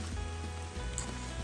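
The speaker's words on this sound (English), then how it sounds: "it stops raining and the sun even attempts to come out, it starts raining again" Rain falls steadily on the Appalachian Trail in the mountains, a continuous hiss of drops on nearby surfaces with a low background rumble and no voices.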